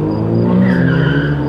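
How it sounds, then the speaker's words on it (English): A car accelerates hard and skids on a one-way city street, a loud close tire squeal over a revving engine lasting about a second and a half. "That sounded like an aggressive throttle."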